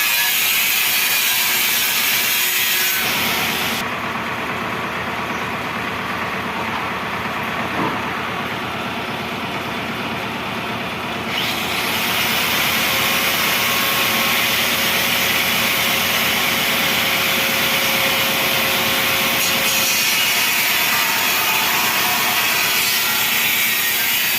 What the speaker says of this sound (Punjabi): ਇਹ ਜੋ ਬੱਤੇ ਵੱਡੇ ਆ ਇਹ ਬੱਤੇ ਕੱਟ ਕੇ